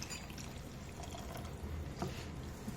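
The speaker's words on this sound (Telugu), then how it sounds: "వాటర్ వేసామండి" Water is poured into a pan of simmering mushroom gravy curry, a soft, steady pouring wash close by with no talking, ending in a brief louder splash.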